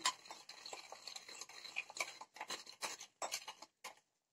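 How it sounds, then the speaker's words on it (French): Quick clinking and scraping of a mixture being stirred in a bathroom sink to clear a clog, close by and fairly quiet, in uneven rhythmic bursts that stop abruptly near the end. "Commencez à mélanger."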